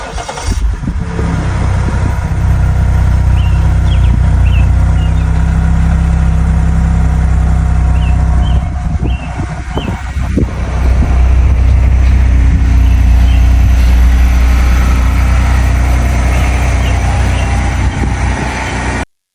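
A Ford Edge ST with a newly installed intercooler idles after cranking over, giving a steady, close, low engine drone with a rougher burst partway through before settling back to a smooth idle.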